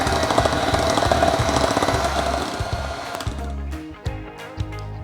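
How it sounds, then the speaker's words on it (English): An electric mixer whirs loudly and steadily while mixing cake batter for a Snickers cake, then cuts off after about three seconds, leaving a few knocks and clatters. "give it another couple quick spins on the mixer"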